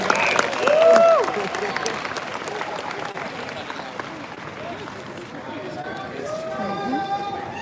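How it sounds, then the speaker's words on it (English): An audience at a Politicon 2019 debate event applauds and cheers, a dense wash of clapping and crowd noise fading slowly, with a voice speaking over it at the start. "give a round of applause for Politicon 2019"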